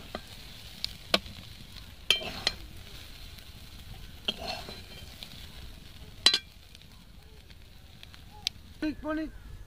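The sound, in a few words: stirring Bengali snack frying in a pan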